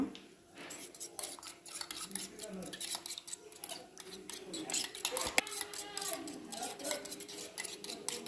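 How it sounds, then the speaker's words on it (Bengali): Two eggs beaten with salt in a bowl, rapid irregular clinking and tapping of a utensil against the bowl, close and busy, with brief talk in between. "এখন আমরা একটু নুন দিয়ে ডিমগুলোকে ফেটিয়ে নেব"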